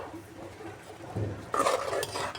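A spoon scrapes and clinks against a metal pot while sambar with added water is stirred, close up and growing louder partway through.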